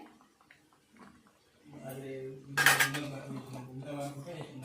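A utensil scrapes and clinks against a cooking pot as food is stirred during traditional home cooking, soft and close, with a person talking over it.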